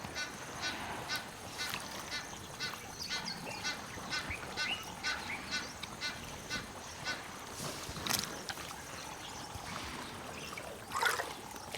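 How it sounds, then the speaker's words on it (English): Geese or other waterfowl squabble over food beside an African river, a dense run of honks and squawks overlapping one another over steady moving water, with one louder outburst near the end. "Birds squabble over food."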